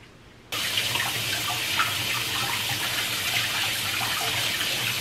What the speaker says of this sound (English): So first you wash your things, of course.